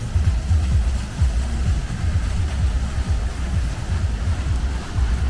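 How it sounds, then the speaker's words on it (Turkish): Manavgat Waterfall in Turkey, heard as a steady, loud low rumble of rushing water with wind buffeting the microphone throughout. "aha da Manavgat Şelalesi arkadaşlar."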